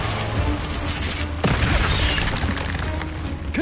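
Incendio fire spell cast in Hogwarts Legacy, a dense roaring whoosh of flame with a sharp burst midway, loud and continuous, among other spell effects.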